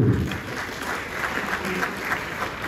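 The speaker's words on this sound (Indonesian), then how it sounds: "Tepuk tangan untuk Ibu Ayu." An audience applauds for Ibu Ayu at a university event, a dense, even wash of many hands clapping in a hall, steady and moderately loud.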